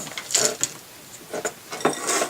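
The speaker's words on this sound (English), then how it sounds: "dump the bigger pieces back in to grind it for the next time" Chaga mushroom pieces rattle and grind in a small grinder, in several short, uneven bursts of gritty mechanical noise separated by brief pauses.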